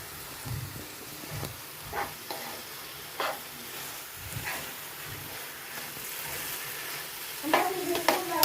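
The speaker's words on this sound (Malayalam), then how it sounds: "പാൽപ്പൊടി ഇട്ടിട്ടുണ്ടെങ്കിൽ നമുക്ക് നന്നായിട്ട് ഇളക്കി കൊടുക്കാവേ" Carrot halwa with milk powder being stirred in a pan, soft scraping strokes recurring every second or so over a faint low sizzle, quiet and close, with a few louder clatters near the end.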